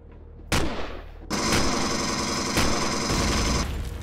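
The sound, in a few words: turret firing in Empyrion Galactic Survival video game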